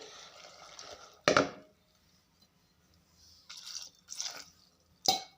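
Water is poured into a pot of fresh cowpea dal in a few short splashing bursts, separated by near-silent pauses, all fairly close.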